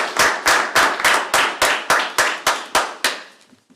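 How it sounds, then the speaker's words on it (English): Roughly a dozen sharp, evenly spaced claps ring out clearly with no talk, a small audience applauding city employees being recognized at a public meeting; the rhythm stays steady and slowly fades toward the end. "We would like to recognize those individuals and give them a round of applause as well."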